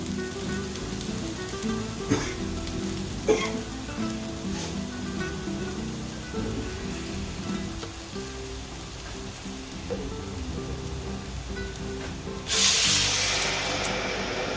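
Potatoes for dum aloo fry with a low, steady crackle, then a sudden loud hiss of sizzling erupts near the end as water hits the hot pan.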